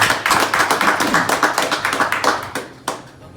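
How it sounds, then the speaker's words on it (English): Applause for a performer at a listening session, with dense close clapping from a small audience that carries steadily for about two and a half seconds and then thins to a few scattered claps. "Round of applause for that."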